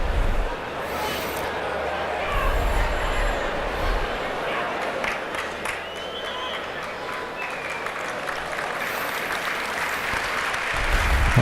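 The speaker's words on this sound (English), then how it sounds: "the thunderous applause is for Paul Power" Thunderous applause from a packed football crowd at a 1986-87 Everton vs Leicester City match, sustained and dense throughout with broad roaring texture and a commentator speaking over it.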